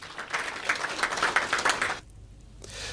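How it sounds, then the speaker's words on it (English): Audience applause at a public lecture launching a citizens movement, a broad crackling burst of clapping for about two seconds that cuts off abruptly, leaving near silence. "A very big round of applause for Mr. Godsell."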